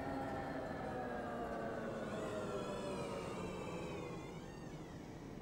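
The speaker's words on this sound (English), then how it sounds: "I love that creaking sound" An articulated bendy bus in OMSI 2 turning a corner: a continuous low engine drone with long, wavering creaking tones rising and falling above it, steady and alone with no talk.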